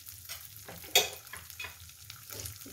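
Urad dal fries in hot coconut oil for a chutney, a soft, close sizzle with light stirring scrapes and one sharper clack near the start, with no talking.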